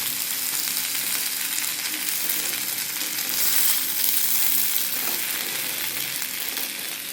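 Raw plantain stir-fry with chili sizzles steadily in a pan, a continuous close hiss of frying that swells slightly midway, with no voices.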